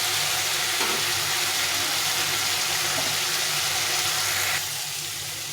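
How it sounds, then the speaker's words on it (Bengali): Potatoes and spice paste sauté in a pan for a fish curry, a loud continuous close sizzle and hiss that holds steady, easing slightly in the last second. "আলুর সঙ্গে মশলাটা ভালো করে কষিয়ে নিয়েছি"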